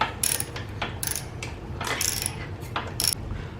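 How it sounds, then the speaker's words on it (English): A ratchet wrench tightens a motorcycle crash kit's 17mm mounting bolts on a KLX351, giving several short bursts of rapid clicking, each a second or less, close by and fairly loud. "and tighten the mounting bolts."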